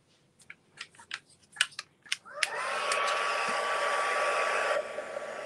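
A handheld heat tool switches on and blows a steady loud whoosh to heat set paint in a craft session, preceded by several sharp clicks and taps.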